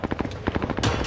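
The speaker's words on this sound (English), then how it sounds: "Who are you shooting at?" Automatic gunfire in Warzone's Rebirth Island, a quick stuttering string of close, punchy shots followed by a heavier burst at the end, no voices over it.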